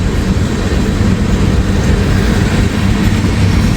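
Freight train with a distributed power locomotive unit working hard as it passes, a steady loud low rumble and roar throughout with no gaps, no voices.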